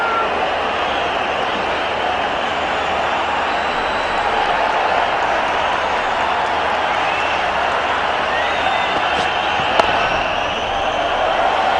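A cricket crowd at Brabourne Stadium in an India versus Australia match applauds and cheers steadily, a broad, continuous wash of clapping and crowd roar that holds throughout with one brief sharp crack near the end.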